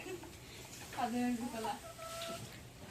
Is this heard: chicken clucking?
yes